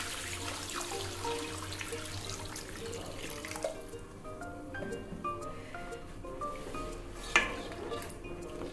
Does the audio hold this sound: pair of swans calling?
no